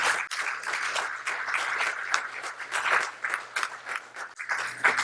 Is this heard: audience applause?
yes